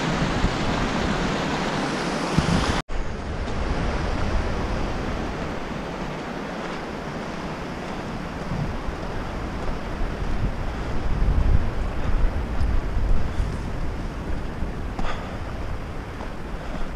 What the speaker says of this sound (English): It's water, Brooke.